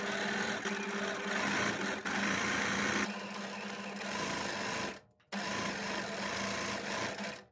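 A sewing machine stitches free-motion embroidery on fabric in a continuous fast whirring hum that shifts slightly in pace, cuts out for a brief moment, then resumes at a steady speed.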